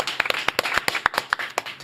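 A small group claps in welcome for a guest professor on a talk show. The close claps come as separate sharp strikes in a loose, uneven rhythm.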